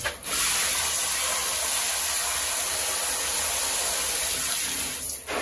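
Water pours steadily over thrips-infested plants to rinse them, a continuous close hiss and splash lasting several seconds with no pauses.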